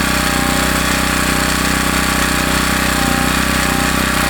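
A WEN portable generator runs continuously at close range, giving a loud, steady engine drone with a rattling, hammering texture and no talk.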